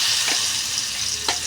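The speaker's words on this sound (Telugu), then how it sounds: "తాలింపు వేసుకోవాలి" Tempering sizzles steadily in hot oil in a pan with curry leaves added, a continuous close crackling hiss with two brief stirring scrapes, no voices.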